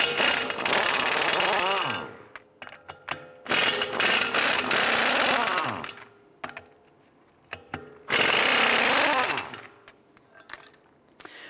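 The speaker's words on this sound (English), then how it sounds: "there's gonna be three 19 millimeter bolts that go through and hold our wheel hub in place. I wanna go ahead, loosen and remove all three" Ratchet wrench loosening three 19 mm wheel hub bolts on a 2011–2018 Ram 1500 steering knuckle, rapid clicking in three long bursts separated by quiet pauses, close and loud.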